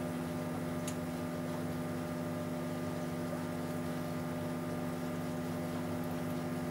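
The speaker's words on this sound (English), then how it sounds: "And now slowly the pump on my skimmer ramps up." A Blau Reefmotion DC pump on an aquarium skimmer runs as a steady, close electric hum with a low tonal drone and a faint whir. The sound holds constant and alone with no talking.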